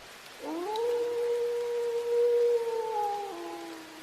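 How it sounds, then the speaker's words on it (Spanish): A wolf howling in a forest, sounding like an animal in great pain: one long, sustained, wavering howl rises, holds steady for about three seconds and then fades, loud and alone with no other sound. "escuchó no uno, sino muchos aullidos que parecían como de un animal que estaba sufriendo demasiado"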